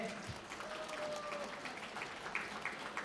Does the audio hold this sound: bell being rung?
no